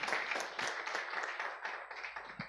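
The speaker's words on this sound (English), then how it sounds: "can we have a second round of applause for Professor?" Audience applause at a regional reproductive justice litigation forum, a dense patter of many hands clapping steadily for a couple of seconds, moderately loud and slightly distant, tapering near the end.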